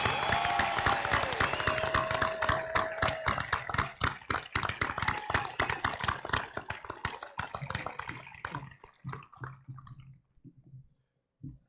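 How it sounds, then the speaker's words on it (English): An audience at a school district event applauds future servicemen and women from Army ROTC and the Air Force, loud sustained clapping from a large crowd that thins and fades to scattered claps before silence. "Let's give these future servicemen and women a round of applause"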